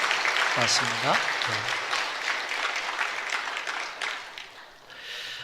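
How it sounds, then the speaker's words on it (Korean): Church congregation applauding during a Sunday worship service, a sustained round of clapping in a reverberant sanctuary while someone speaks briefly over it near the start. "우리 격려의 박수 부탁하겠습니다."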